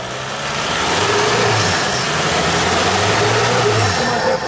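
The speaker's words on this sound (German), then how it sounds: "Gas geben, Gas geben, Gas geben." Offroad vehicle engine revving hard under throttle, a steady loud drone with rising and falling pitch, no talk.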